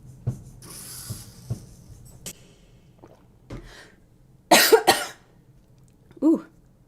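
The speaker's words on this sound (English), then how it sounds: "Why am I coughing?" A person coughs in a few sharp, close bursts near the middle of the clip, with a softer throat sound after, set against quiet background noise and faint clicks.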